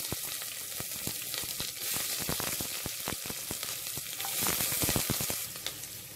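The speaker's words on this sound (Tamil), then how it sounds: "நம்ம எடுத்து வச்சுருந்த வெங்காயம் நல்லா ப்ரௌன் கலரில் வதங்கிடுச்சு." Onions frying in ghee and oil for vegetable biryani, a quiet constant sizzle punctuated by many quick crackling pops and stirring scrapes, heard close up with no talk.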